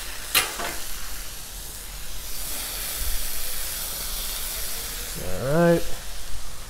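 Onion dropped onto a hot 36-inch Blackstone griddle beside shrimp and broccoli, giving a broad steady sizzle with a sharp scrape at the start; someone speaks briefly near the end.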